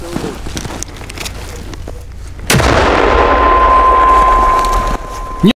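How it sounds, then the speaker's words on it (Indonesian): A single sharp mortar blast booms loudly in a snowy border area of Belgorod, followed by a long rushing roar and a faint steady tone, after a stretch of quiet outdoor noise. "Миномет!"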